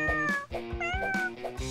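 A kitten mews repeatedly, several short, close, high-pitched meows in quick succession with no other sounds around them.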